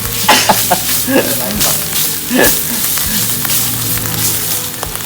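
Minced field rat hisses and sizzles loudly in a hot pan for a curry, with steady frying noise broken by repeated stirring scrapes and clatters, close and without talk.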